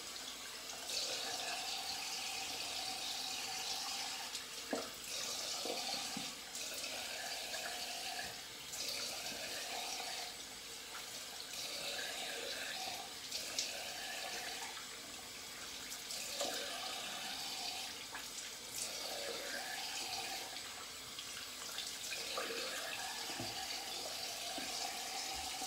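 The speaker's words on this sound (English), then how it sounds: "I'm going to rinse." Tap water runs steadily for a long rinse at a bathroom sink during a wet shave, a continuous hiss close by with small splashes and shifts in flow, no talk.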